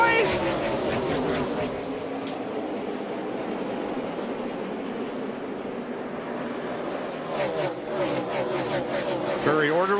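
A pack of NASCAR stock cars roars off at the green flag at Bristol's Food City speedway in 2017, a loud sustained engine drone that surges near the end, with an excited commentator talking over it.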